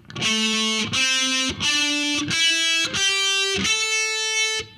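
Distorted heavy metal electric guitar plays a fretted note pattern across the strings in a lesson, five sustained notes stepping upward one after another, loud and close with no voices.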